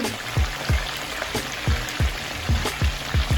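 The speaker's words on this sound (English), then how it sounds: "So I like to fry my fish and put the garlic and the pepper into the oil for it to get that flavor." Fish frying in hot oil with garlic and pepper for Jamaican escovitch fish, a continuous close sizzle with repeated soft popping spatters about every half second.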